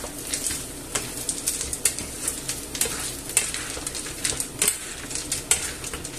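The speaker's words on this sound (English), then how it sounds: "So, I'll add the pasta there. And I'll just give it a mix about." Pasta being stirred in a sizzling frying pan: a close, continuous fry with irregular scrapes and clinks of a utensil against the pan, no talking.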